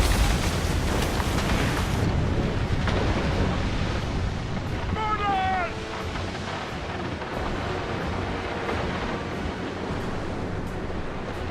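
Naval cannon fire and explosions as a fire ship is sunk in the sea battle of Assassin's Creed Rogue, loud booming blasts over constant roaring surf and wind, with a shouted voice briefly heard in the din.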